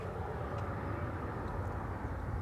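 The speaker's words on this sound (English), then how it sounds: "Next to arrive over here, that's an Embraer 190." An Embraer 190 airliner arriving at Schiphol Airport's Polderbaan runway produces a steady, broad engine roar at moderate distance that holds evenly throughout.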